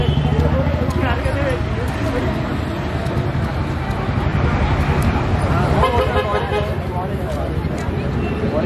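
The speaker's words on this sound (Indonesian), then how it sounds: "Sorry ya, backsoundnya klakson." Car horns honk and toot repeatedly amid loud, continuous street traffic near a roadside stall where banana parata is being cut, with people talking over the din throughout.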